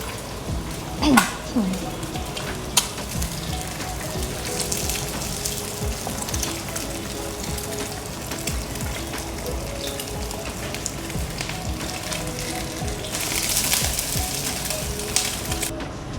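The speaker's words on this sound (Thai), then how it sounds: "ขั้นตอนแรกเราจะใส่หอมกับเห็ดลงไปผัดก่อน" Shallots and mushrooms stir-fry in a pan, a steady hiss and crackle of sizzling that runs throughout, broken by a few sharp clinks and scrapes and a brighter burst of frying near the end, with speech now and then.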